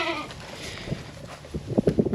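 Goats bleat in short, overlapping calls near the end, fairly close at a homestead goat barn with shelters, over a steady outdoor background hiss.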